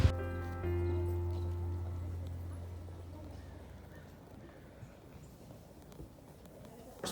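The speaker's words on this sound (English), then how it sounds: "Horseback riding" Horse hooves clop as a horse is ridden at a therapy outing, giving scattered soft beats under a low hum that fades early and steady outdoor background noise.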